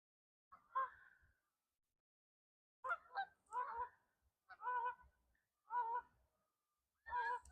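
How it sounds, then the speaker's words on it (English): A flock of geese near an urban water system honks in a series of loud, clear calls, a single honk first and then several close bursts after a pause, with quiet gaps between. "that's a lot of geese."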